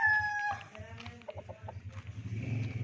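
Stag chickens clucking close by during bathing, with a rooster's call at the start and a steady, busy stream of clucks and squawks throughout.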